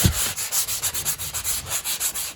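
Hand sanding a patched drywall ceiling smooth, a steady rhythmic back-and-forth rasp of abrasive on joint compound, close and fairly loud, with no talking.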